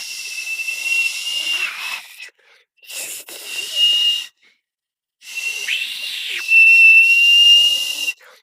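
A person whistles several breathy, high notes in separate phrases with short pauses between, the last one longer and steadier, heard close up.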